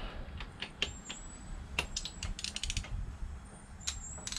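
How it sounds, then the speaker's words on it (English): A torque wrench tightens ARP head studs on an RB25DET engine, producing sharp ratcheting clicks and metallic ticks in irregular bursts against a low background rumble. "There we go, hear that click, ready? That's 80 foot-pounds, done."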